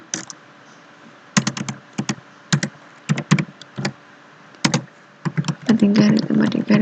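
Someone types on a computer keyboard in quick bursts of crisp, close key clicks separated by short pauses, ending in a denser run with a faint hum underneath.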